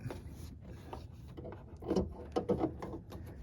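Plastic turn signal bulb socket on a 2020-2022 Ford Escape, fitted with an Auxito LED bulb, rubbing and scraping as it is twisted into its housing. Faint, short scrapes and clicks come close together, with a brief cluster of louder rubs near the end.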